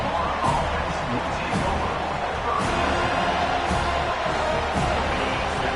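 A college football stadium crowd at a Florida at FSU game roars in a steady, dense wash that stays loud and unbroken throughout, with no clear separate voices.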